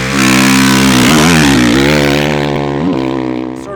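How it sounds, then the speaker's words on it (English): A 2010 Honda CRF450R motocross bike revs hard at Racetown 395 in Adelanto, California, its engine loud and close with pitch surging and dipping through several throttle blips. "We're out here testing the 2010 Honda CRF450R at Racetown 395 in beautiful Adelanto"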